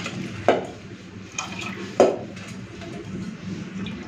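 A pot of washed dal is set on a kitchen stove to boil. Two sharp metallic clanks of cookware ring out close by, with softer handling noises between them.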